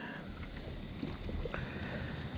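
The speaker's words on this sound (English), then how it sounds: "It's very windy out here." Wind blowing hard outdoors on a cold fall night by the water while catfishing, a constant rough buffeting rumble close on the microphone with small knocks, and no talking.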